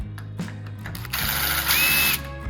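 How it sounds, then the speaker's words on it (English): Power drill with a small center bit boring a hole through a door hinge router jig template, a loud whirring motor that rises in pitch as it bites in, heard alone in a short burst. "It's got a little drill bit in the center."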